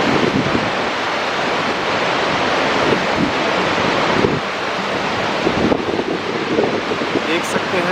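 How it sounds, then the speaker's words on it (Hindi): The Kali River, the border between Nepal and India, rushes fiercely, a loud, steady roar of turbulent water that fills the whole stretch with no break. "और ये है काली रिवर, जिसका कि आप रौद्र वेग देख सकते हैं।"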